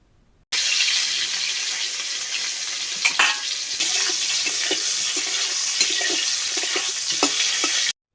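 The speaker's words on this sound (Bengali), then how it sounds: "পটলগুলোকে লাল লাল করে কিন্তু ভাজতে হবে।" Pointed gourd (potol) pieces frying in oil, a loud steady close sizzle that begins abruptly and runs for several seconds with occasional crackles from stirring.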